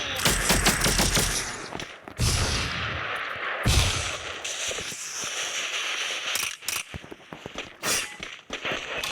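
Rapid bursts of gunfire from the Free Fire MAX mobile battle game, loud, clattering and mechanical, firing in repeated volleys with brief gaps and no talking.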